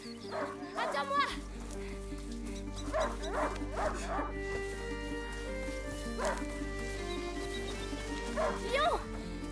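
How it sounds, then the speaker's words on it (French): In the video game A Plague Tale: Innocence, a hunting dog barks and whimpers. Several sharp yips and whines come in bursts over a steady low drone of game ambience, and a voice talks intermittently. "Lion, un chien de chasse."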